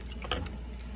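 Water trickling into corn masa dough being mixed for sopes, a soft, brief, close pour with no talking.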